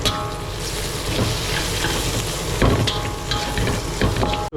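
Spices, meat curry powder and chilli powder sizzle and fry in a hot pan, a dense continuous crackle up close, with occasional stirring scrapes.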